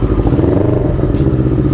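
A CFMoto NK400 motorcycle engine runs loud and close, its Akrapovic exhaust giving a steady, throbbing, crackly idle.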